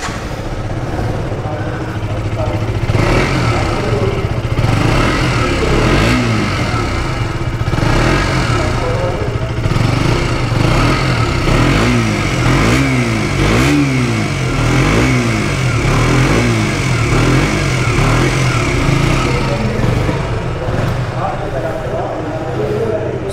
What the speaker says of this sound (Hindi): तो ये था KTM RC 125 का एग्जॉस्ट नोट।